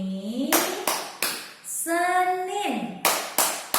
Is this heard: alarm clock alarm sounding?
no